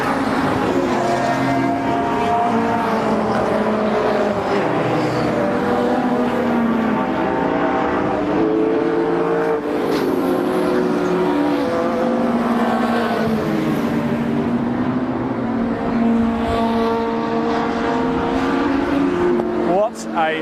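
Race cars in a CTC Thunder and BOSS qualifying session on the Brands Hatch Indy circuit: a loud, continuous engine roar with revving and cars passing throughout, while a commentator talks over it.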